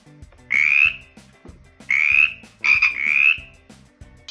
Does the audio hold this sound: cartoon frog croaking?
yes